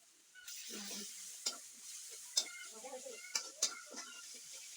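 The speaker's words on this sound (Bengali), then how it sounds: "আদা রসুন দিয়ে দিতে," Ginger and garlic go into a pan of frying chicken curry over a clay stove and get stirred, giving a steady sizzle with scraping stirs and a few sharp clinks of a utensil against the pan.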